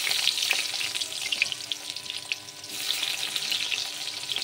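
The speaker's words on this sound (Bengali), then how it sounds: "তারপরে পেঁয়াজ কুচা দিয়ে দিব।" Chopped onions fry in mustard oil in a kadai, crackling and sizzling continuously and fairly close, with small pops scattered throughout and no speech.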